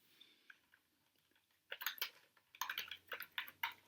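Typing on a computer keyboard while entering text in the vi editor: a few faint isolated key taps, then quicker bursts of close clicking keystrokes.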